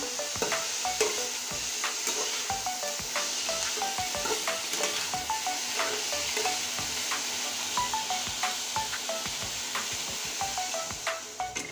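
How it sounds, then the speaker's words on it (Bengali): Bitter gourd frying in a pan with whole green chillies gives a steady, close sizzle, broken by frequent light clicks and scrapes of stirring, with no talk. "দেখুন করলাটা ভেজে নিচ্ছি"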